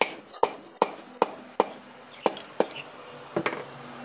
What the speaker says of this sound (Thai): เราทำการตอกครับผม